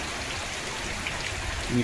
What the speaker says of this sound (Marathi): असा हा धुवादार पाऊस पडतो